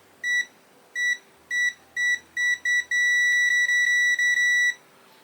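Repeated short electronic beeps from a Minipa ET-2233 multimeter continuity test, first in separate bursts, then a near-continuous tone broken by brief gaps, clear and close with no talking.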